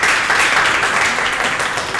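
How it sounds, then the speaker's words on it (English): Steady applause from a crowd at a karate training session greeting coach Sensei Hassan, a dense, even wash of clapping lasting throughout without pause. "so give him a big round of applause"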